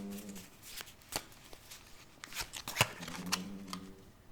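Tarot cards handled and laid down to cover another card, soft riffling and flicking sounds, light and close, under faint murmuring voice.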